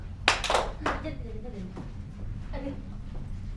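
Participants in a procurement management training game clapping together on command, a couple of sharp bursts of claps followed by quieter talk.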